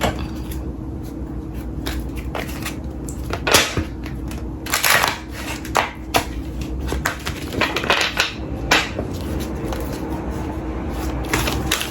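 Papery shuffling and soft riffling of oracle cards, a busy series of light taps and flutters up close with a steady room hum underneath.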